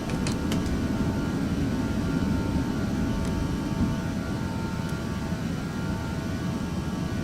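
An Aerosoft Airbus climbing after takeoff from Bristol in the Prepar3D flight simulator gives a steady, loud engine roar with a broad low rumble. A few faint clicks sound early on, and no one talks.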